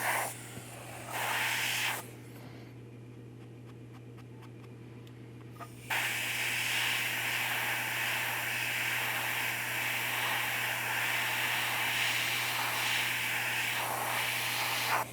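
A steady hissing paint spray runs in bursts, stopping briefly and then resuming continuously, close and fairly loud over a low constant hum.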